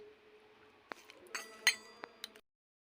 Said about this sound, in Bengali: আমরা ভেজে রাখা শুকনো মরিচগুলো গুঁড়া করে নেব। আপনারা চাইলে হাত দিয়েও করতে পারেন, আমি চামচের সাহায্য করছি।